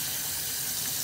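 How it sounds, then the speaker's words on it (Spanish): Kitchen tap water running steadily into a sink while dishes are washed, a constant close rushing splash with no break. "Vamos a lavar trastes"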